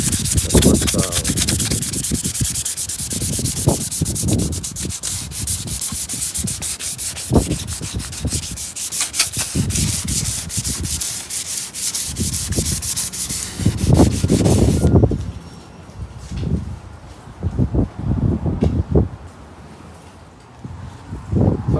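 Hand sanding the body of a Nissan 300ZX, a steady rasping rub in rhythmic back-and-forth strokes, close and continuous throughout.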